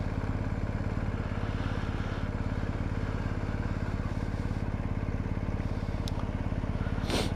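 A motorcycle engine drones steadily and loudly throughout as the rider shifts into neutral with the clutch out, the even thrumming tone holding without obvious change.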